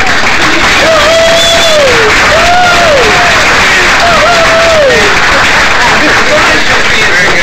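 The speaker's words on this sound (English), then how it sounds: "So if I could get some applause." An audience at an event introducing Richmond police lieutenants breaks into loud, sustained applause with cheering and whoops, a dense continuous roar of clapping close by.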